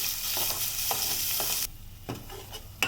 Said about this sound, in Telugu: తయారు చేసుకుని పెట్టుకున్న మసాలాని వేసుకుందాం చేసుకోవాలి ఆయిల్లో బాగా ఫ్రై చేయాలండి